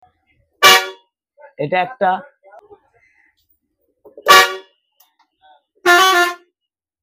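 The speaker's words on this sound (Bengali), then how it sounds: "তো আপনাদেরকে আজকে শোনাবো কত রকম ভলভোর হর্ন আছে।" Several Volvo bus horns honk in turn: a loud blast, two shorter toots, then two more long blasts separated by pauses, with a brief spoken phrase between them.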